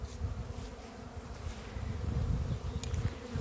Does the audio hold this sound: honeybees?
yes